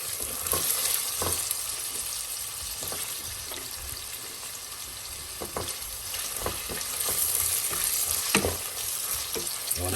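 Garlic and carrot stir-fry in a hot pot for a Christmas cabbage dish, with a steady loud sizzle throughout and regular scraping stirs and clinks of the utensil.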